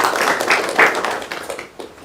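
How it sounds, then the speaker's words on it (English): An audience applauds a speaker at a university innovation week event, a short burst of many hands clapping unevenly, fairly loud and fading slightly at the end. "Let's clap for her."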